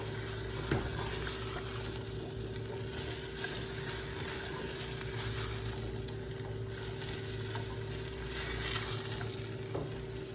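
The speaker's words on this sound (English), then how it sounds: "So we're gonna go ahead and put our potatoes in there and our carrots. Give it a good stir." Potatoes and carrots go into a soup pot with melted fat and are stirred, giving a soft, steady sizzle with light scraping from the stirring, fairly quiet with no talking.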